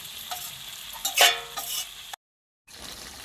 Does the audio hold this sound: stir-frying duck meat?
yes